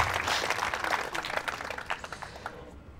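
Students at a women's engineering college quiz show in Ajmer break into applause, a burst of clapping that starts strong and thins into scattered, uneven claps as it tapers off over three seconds.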